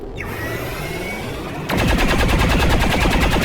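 Overwatch gunfire aimed at a Faceless alien in XCOM 2 erupts as a loud, dense rapid-fire burst that cuts in sharply midway and continues steadily to the end over a busy game soundscape.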